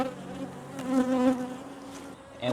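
Honeybees buzz steadily around a hive set up for small-scale queen rearing with a Cloake board, a close, continuous insect hum that swells slightly in the middle with no talking.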